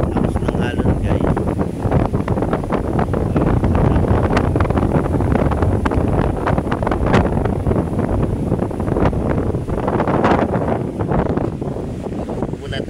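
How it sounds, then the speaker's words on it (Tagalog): Strong wind and rough waves along the Manila Bay shoreline, a loud, steady roar of gusts buffeting the microphone over surging water throughout, with a voice talking in the background. "Lakas ng alon guys."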